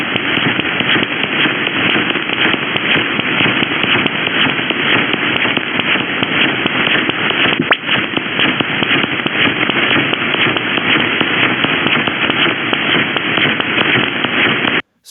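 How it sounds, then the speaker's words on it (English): Shortwave receiver tuned to 13.5 megahertz carries dense, steady crackling interference from a long-range radar, a continuous harsh static wash that fills the whole stretch without pause before cutting off abruptly at the end. "So what you're hearing is interference from a long-range radar."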